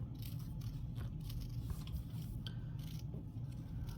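Scissors cutting a small border around a piece of embroidery, quiet close snipping and scraping strokes in a steady series over low background noise.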